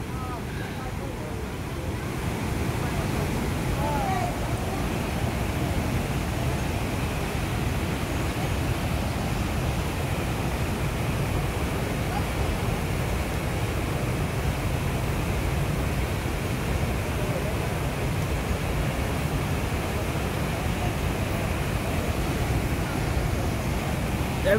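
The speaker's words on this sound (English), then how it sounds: "They really are coming down to the waterfall, listen." A broad, constant roar of water rushing down a waterfall, close and loud, with wind buffeting the microphone and the rumble holding steady throughout.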